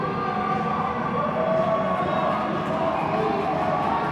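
Hometown crowd at a Utah State versus Weber State college ice hockey game, a dense, steady roar of cheering and chatter filling the rink at moderate volume without letup.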